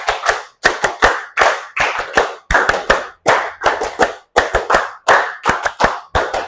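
Group clapping hands in sharp, loud bursts of rapid claps with short silent gaps between sets, repeated in a steady counting rhythm.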